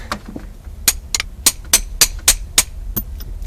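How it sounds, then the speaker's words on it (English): Metal hammer blows knock a bracket out of a car steering column, about eight sharp, ringing strikes at a steady, slightly uneven pace, close and loud over a low hum of background noise, with no talking. "you're gonna have to hammer it out."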